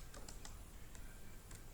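Fingers tapping on a computer keyboard, a quick run of soft, close clicks in an uneven rhythm, quiet and alone with no voice.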